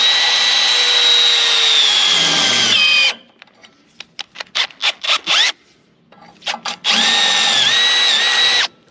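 A power drill spins at high speed while boring a hole for a trailer jack, a loud steady whine that breaks into a run of short stuttering bursts midway before the sustained high-speed drilling resumes.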